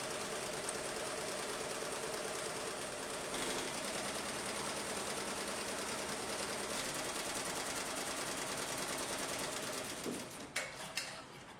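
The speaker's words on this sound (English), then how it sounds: "we can enter the embroidery model and start the machine" An embroidery machine runs steadily in automatic mode, a dense continuous mechanical whir and rapid needle chatter that holds level for about ten seconds before stopping with a few clunks.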